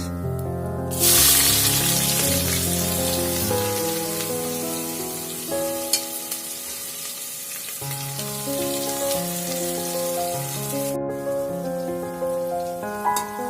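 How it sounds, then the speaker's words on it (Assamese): Onions sizzle and crackle steadily in hot oil, loud and close, under continuous background music. "ইয়াত পিঁয়াজটো অকণমান ৰঙচুৱা হৈছে আৰু অলপ ভাজিব লাগিব।"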